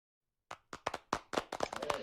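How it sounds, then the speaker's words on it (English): Audience applause at a health conference talk during a virtual event, starting from silence with scattered separate claps that quickly build into a denser, steady round of clapping from a small crowd. "Everybody knows how to clap now."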